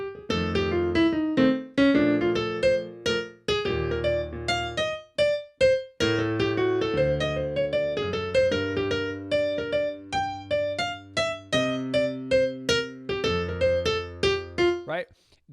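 Solo piano improvisation in a jazz style, a flowing single-note melody over sustained chords, with runs and held notes shifting between busy and sparse textures, played close and clear with no talking.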